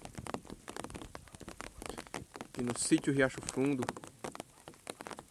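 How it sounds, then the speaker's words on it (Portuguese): Rain falls steadily in still air at Sítio Riacho Fundo, a farm in Rio do Pires, Bahia, a soft continuous patter of drops throughout, with someone speaking briefly over it. "Como não tá ventando, a chuva desce certinho, ó."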